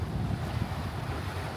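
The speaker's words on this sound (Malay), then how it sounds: "Ombak dia kuat sikit pada marin." Strong sea waves churn against a jetty at high tide in Trang, Thailand, a dense continuous rush mixed with gusty wind buffeting the microphone, loud and close with no voices.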